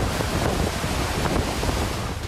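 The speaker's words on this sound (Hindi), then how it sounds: "समंदर से आ रही खौफनाक लहरें कई जिंदगियों को लील चुकी हैं।" Sea waves pounding the Sri Lankan coast during Cyclone Ditwah give a dense, unbroken roar mixed with heavy wind buffeting the microphone, loud and close throughout, with no voices.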